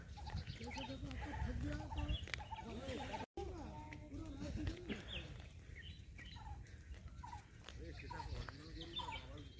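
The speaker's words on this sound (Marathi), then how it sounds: "प्रत्येक पक्ष्यांचा असं कान लावून आवाज ऐकला ना, खूप छान चिवचिवाट येतोय." Birds chirp and call around Kankeshwar Mahadev temple at Alibag, with many short twittering notes scattered over a steady background. A dog barks now and then, and people talk nearby throughout.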